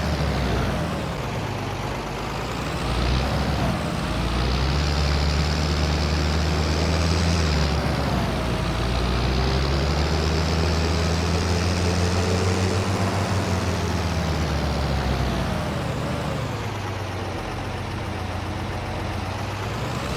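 A tractor engine in Farming Simulator 22 drones loud and steady, its pitch rising and falling as the machine drives along, with no talk over it.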